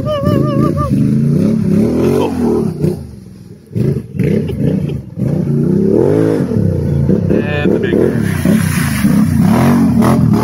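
A Can-Am XXC 1000 ATV engine revs loudly and close, rising and falling in repeated throttle bursts with a brief lull midway, and a person's voice is faintly audible at times.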